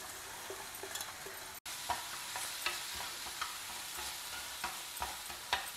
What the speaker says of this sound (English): Now we will fry it in this ghee.